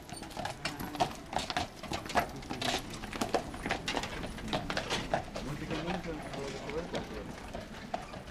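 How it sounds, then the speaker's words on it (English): Horse hooves clip-clop in an irregular run of sharp knocks on the streets of medieval Carcassonne, where horse-drawn carriages carry tourists, with people talking in the background. "if you're a little bit lazy, you can take the horses"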